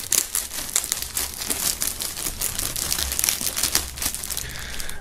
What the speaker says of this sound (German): Wir werden das Ganze mal aus der Folie holen